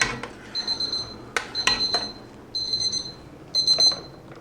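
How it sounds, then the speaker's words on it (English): A kitchen oven timer beeps in a home kitchen during beef bourguignon cooking, sounding in repeated short bursts of high electronic beeps about once a second, clear and close over quiet background. "that's my timer telling me it's time to take this out of the oven"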